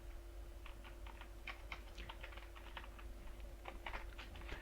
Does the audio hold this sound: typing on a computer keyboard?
yes